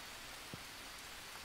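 Steady rain in Green Hell, a dense, even hiss of falling water, faint and continuous, with one soft drop-like tap.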